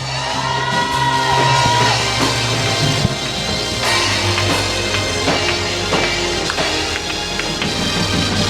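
Worshippers shout and cry out together at a deliverance church service, a loud continuous crowd roar with whoops and yells over sustained music throughout.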